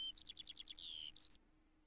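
Short bird-call melody from the Barbie as Sleeping Beauty (1999) video game, a quick run of bright, evenly spaced chirps rising into a longer trill, then cut off abruptly, with no voices.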